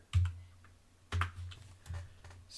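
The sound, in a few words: typing a sudo pacman command on a computer keyboard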